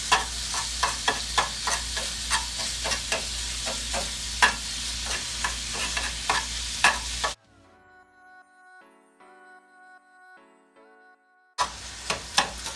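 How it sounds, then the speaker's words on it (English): Food sizzles in a frying pan on a stove while cooking biscuits and gravy, a steady close hiss with regular stirring scrapes, cut by a quiet gap before the sizzle returns. "So while I got that sizzling a bit"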